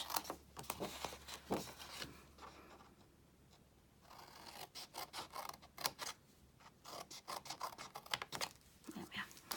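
Scissors cut out a card piece for a folded card in a box, producing a busy run of close scratchy snips and paper rustle with a brief quieter pause in the middle.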